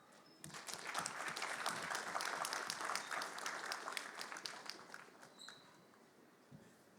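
Scattered crowd applause at a combat sports gala press conference weigh-in, moderately distant, building quickly, then thinning out into a few last claps.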